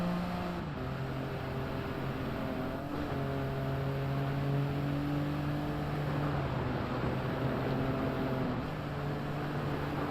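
A car engine in Gran Turismo 7 held at high revs in third gear against the rev limiter, a steady buzzing drone with stepped pitch shifts, loud and continuous with no talking.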